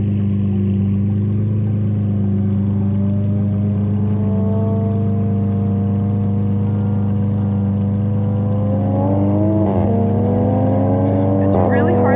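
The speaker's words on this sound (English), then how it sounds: "the M5 and the Supra are going at it" Toyota Supra and BMW M5 drag racing on an airstrip: a steady engine drone with strong low tones, then rising revving pitch sweeps toward the end as the cars accelerate, under a continuous background hum.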